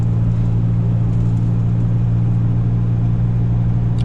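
A truck engine drones steadily while driving, a constant low hum and rumble with no change in pace and no one speaking.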